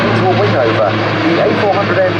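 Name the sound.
Airbus A400M aircraft flying past at air display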